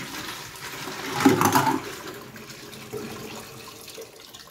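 Water runs and splashes briefly from a tap as cupping equipment is washed, a short louder rush followed by quieter trickling and faint handling sounds.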